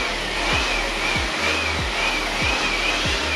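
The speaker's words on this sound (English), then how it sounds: "the blower did a fantastic job in getting that clean" An air blower blasts dust out of a PC cooler radiator, a steady close hiss of rushing air with faint periodic thumps underneath.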